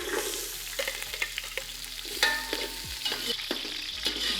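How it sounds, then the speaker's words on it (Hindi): Sliced onions sizzle and fry in a pan for mutton pulao, a steady close crackle broken by repeated scraping strokes of a stirring spoon, with no talking. "इसमें हम अपने डाल देंगे प्याज।"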